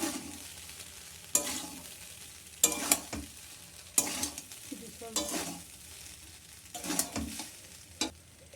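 Fried potato and scrambled egg being stirred together in a pan, with a spatula scraping in repeated bursts over a soft sizzle and no voices.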